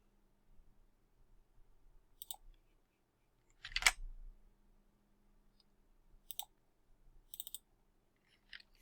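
A computer mouse gives a handful of faint, sharp clicks, sparse and irregular with one double click, plus a single louder knock, in an otherwise quiet room.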